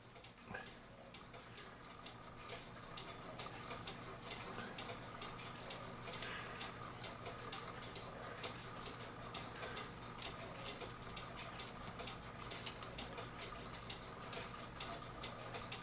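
A 1984 Regula cuckoo clock movement by Alvrt Schwab Karlsruhe, out for repair, ticks steadily and softly on its own, with an even, continuous rhythm throughout.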